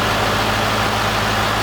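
A C5 Corvette engine, started after months of repairs, idles with a steady, low rumble without a break, a smooth continuous drone with no revving or voices.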